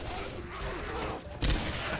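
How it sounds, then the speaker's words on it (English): Machine gun fire in the video game Left 4 Dead 2, a dense burst of gunshots that grows louder partway through and continues steadily, with faint voices in the background. "Hey, machine gun. Anybody want a machine gun?"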